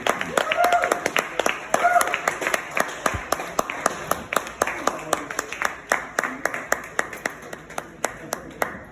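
A stand-up comedy audience at Downriver Brewery claps after the show, starting as dense applause and thinning into a steady run of sharp single claps that slowly fade, with a voice briefly audible at the start.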